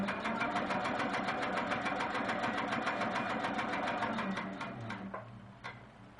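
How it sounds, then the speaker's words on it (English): Sewing machine stitching a quilt border, a fast, even rhythmic clatter of the needle running steadily at close range before slowing and stopping near the end. "And now I'm set to stitch 3/4 of an inch away on the other line."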